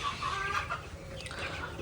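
Chickens in a poultry shed, a flock of broilers about twenty days old, clucking in a steady murmur with short higher calls over a continuous low background hum.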